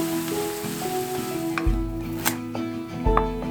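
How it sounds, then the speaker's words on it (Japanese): Chopped ingredients stir-fry slowly in oil over low heat in a pot with Sichuan peppercorns, a soft continuous sizzle broken by a few sharp utensil clinks and stirring knocks, close and with no talking. "鍋に油を入れて刻んだ食材を弱火でじっくりと炒めていく"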